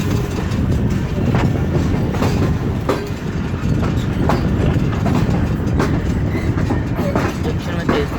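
A train runs along a railway track on a bypass chord line in Pakistan, loud and close, with a continuous rumble and regular clickety-clack of wheels over rail joints throughout.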